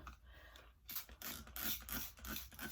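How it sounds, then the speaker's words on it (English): A water spray bottle gives several quick, faint hissing spritzes onto hair in close succession, with soft rustling between them. "I'm gonna spray this with a little bit of water with the spray bottle"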